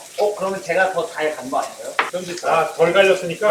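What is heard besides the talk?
steak sizzling in a thick frying pan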